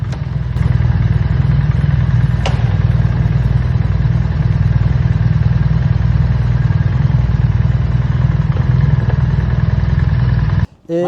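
A BMW R1300 GS motorcycle engine idles close by, a loud steady low rumble with a fast even pulse and light mechanical clatter that cuts off abruptly near the end.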